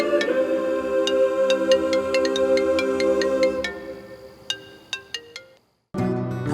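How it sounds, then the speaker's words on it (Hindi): A phone ringtone plays a melodic repeating tune in a home setting, moderately loud and steady, followed by a short silence and a voice answering. "तुम्हारा फोन बज रहा है"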